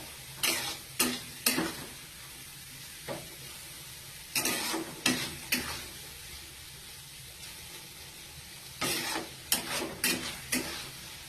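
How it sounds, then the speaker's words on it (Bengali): Fried corn kernels being tossed and stirred in a pan, with clusters of sharp scraping and rattling bursts separated by quieter stretches of faint sizzle, close and moderately quiet. "ভাজা কর্নগুলোকে এর মধ্যে দিয়ে একটু ভালো করে টন্স করে নিতে হবে"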